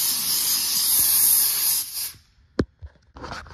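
A cheap $15 Harbor Freight paint spray gun blows a light stream of air over fresh primer to flash-dry it: a loud, steady close hiss for about two seconds that cuts off abruptly, followed by a few faint knocks.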